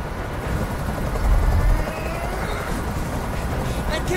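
A helicopter hovers in the video game Detroit: Become Human, its rotor a continuous whirring drone that swells briefly, with voices faintly mixed in.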